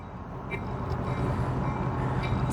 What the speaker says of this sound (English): We got the train coming through.